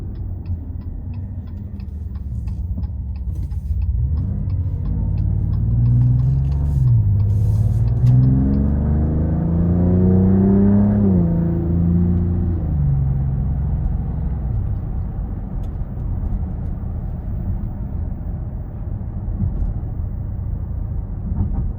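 A 2026 Dodge Charger Scat Pack's V8 rises in a long, loud, climbing roar as it accelerates hard up an interstate on-ramp, then settles into a steady cruising drone, with no talking.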